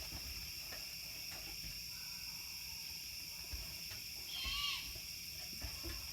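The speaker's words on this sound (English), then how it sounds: "There's this bird making a sound, but I don't know what it is." Unidentified bird calling at night, a brief, faint upward-sweeping call heard once against a steady background of insects or crickets.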